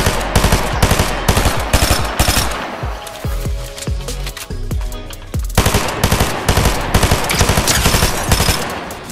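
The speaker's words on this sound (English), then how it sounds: "This SMG is so good." Fortnite SMG fire rattles in rapid, loud bursts, with a steady stream of shots, a short lull in the middle, then another long burst that runs to the end.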